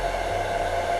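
Heat gun set to level 2, aimed at Monokote covering to shrink it, giving a steady, soft, even blowing hiss with a low hum, unbroken and without talk.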